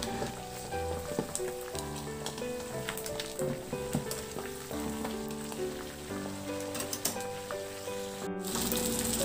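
Pork belly for lechon kawali slowly frying in a pan over low-medium heat with bay leaves and garlic, a steady dense crackle and sizzle with scattered pops and rattles running throughout, close and continuous with no voices.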